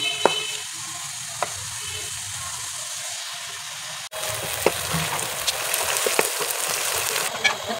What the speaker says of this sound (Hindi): 1 प्याली ऑयल है, मैं इसे फ्राई कर रही हूँ